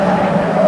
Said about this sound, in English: There's Salmon in a spin, car number 46.